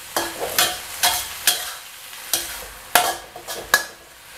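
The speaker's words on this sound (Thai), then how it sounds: "ซีอิ๊วขาวน้ำตาลทรายครับรีบผัดอย่างว่องไวเลยนะครับ" Kale stir-fried quickly with soy sauce and sugar alongside crispy snakeskin gourami, a hot sizzle punctuated by sharp, regular scraping strokes of a spatula in a wok, about two a second, close and loud.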